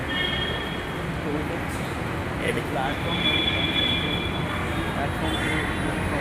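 A Kochi Metro train in Ernakulam rumbles and hums steadily inside a carriage, with people talking intermittently over the continuous noise.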